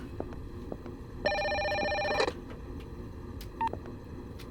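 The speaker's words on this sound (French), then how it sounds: "C'est encore le téléphone" A telephone rings once indoors, a steady electronic tone lasting about a second over a quiet room with light background noise, followed by a brief faint beep.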